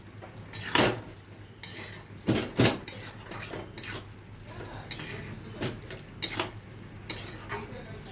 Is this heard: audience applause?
no